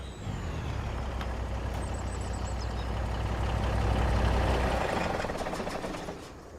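A truck with a gooseneck trailer in the video game Farming Simulator 25, its engine droning steadily close by, swelling briefly before easing off, with a short air-brake hiss and faint high beeps.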